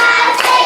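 Children clapping in unison during a classroom clap game, a brief loud burst of hands close by.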